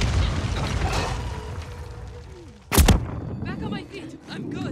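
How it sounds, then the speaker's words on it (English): A mortar shell in Call of Duty lands with a single loud, sharp blast midway through, over constant rumbling battlefield noise, with voices talking around it. "Another mortar incoming."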